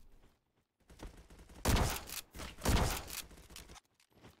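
Carbine fire in the video game Roblox comes as two loud bursts of rapid shots between quieter stretches of softer game noise.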